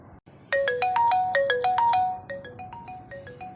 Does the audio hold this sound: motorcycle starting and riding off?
no